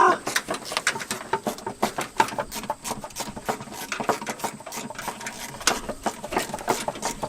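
A ratchet wrench clicks in quick, rapid bursts while undoing a bolt on an abandoned Bronco, close and fairly loud, the rhythmic ratcheting running nearly continuously with short pauses.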